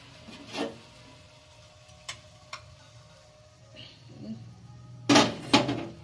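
Tandoori chicken being lifted out of a buttered pan, heard as scattered metallic clinks and scrapes of utensil on cookware, with a couple of sharp taps and a louder clatter near the end.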